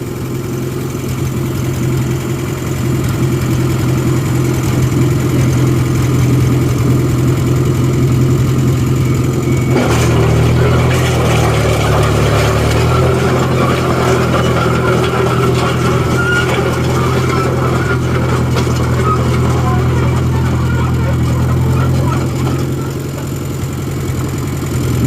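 A pickup towing a trailer approaches at speed, its steady engine drone swelling louder around the middle as it nears a John Deere 1010 crawler dozer, then holding on a continuous rumble.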